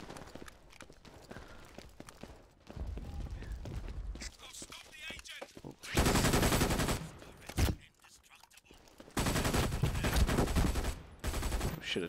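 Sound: turret gunfire in the video game Brink

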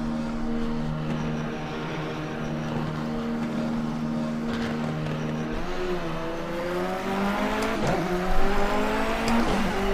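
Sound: Continental race car engine revving in video game Project Cars

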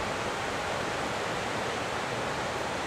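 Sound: flooding Big Thompson River rushing, Loveland

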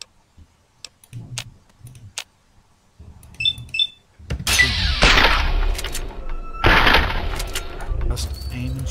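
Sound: gunshots shooting a rad roach in video game Fallout 3

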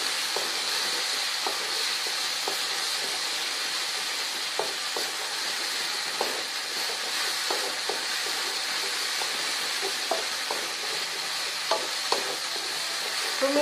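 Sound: stir-frying food in a pan

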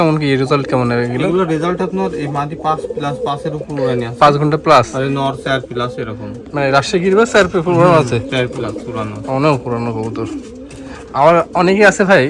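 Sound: pigeons cooing at a pigeon loft

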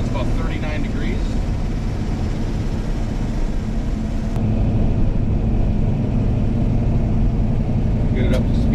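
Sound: 1971 Dodge Charger engine during test drive

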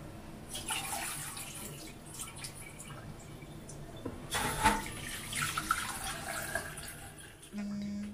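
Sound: rice being washed in water for nasi liwet

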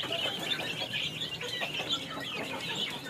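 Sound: backyard native chickens and chicks clucking

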